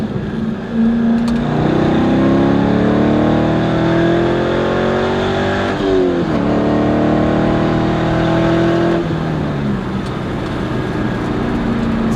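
A Corvette sports car engine revs up loudly, pitch climbing then dropping sharply at each gear change, pulling hard through several shifts up close.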